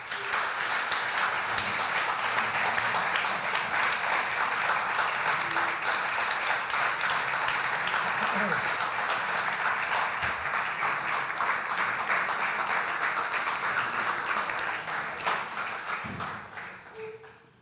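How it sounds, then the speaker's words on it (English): Sustained audience applause after a talk at the Cosmos Club, a dense steady wash of many hands clapping that carries on for a long stretch before tapering off at the end. "So if there's anyone I would ask for a round of applause, it's for the people I've had the honor to chronicle over the past 2 years"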